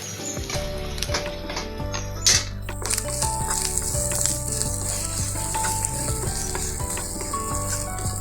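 Grated coconut sautéing in a pan for a Kerala koottukari and tapioca dish, a steady close sizzle and frying hiss running throughout with occasional scrape and stir sounds, with background music and no talk.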